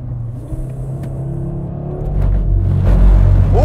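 Audi RS3 accelerating in Dynamic mode on cold tyres, a deep engine rumble building steadily louder and rising in pitch over a few seconds, close and without talk.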